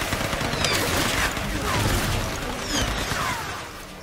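Gunfire in the action game Tomb Raider rings out in loud, dense bursts of rapid shots and impacts that fill the whole stretch and fade slightly at the end.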